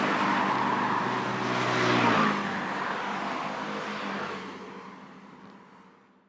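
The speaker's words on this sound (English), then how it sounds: "Now, traffic fade out." Road traffic on a Taipei street rumbles past, a car swelling louder around two seconds and then the whole wash of engines and tire noise slowly fading away to near silence.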